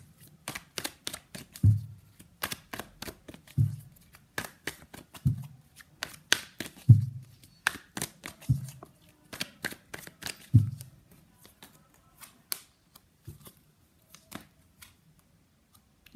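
Tarot cards being shuffled by hand in repeated riffling bursts, each a quick papery flutter with a soft thump, spaced about every two seconds over a quiet background with no talking.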